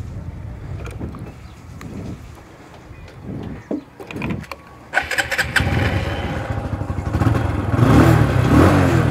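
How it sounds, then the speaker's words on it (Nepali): A TVS Apache 160 2V motorcycle starts up. A few quiet mechanical knocks come first, then the engine catches about halfway through and settles into a loud, close, steady exhaust note that grows slightly stronger toward the end. "अब यसको एक्जस्ट नोट सुन्नु होइन, अनि यसको राइड गरेर हेर्नु हेरौँ के कसो छ"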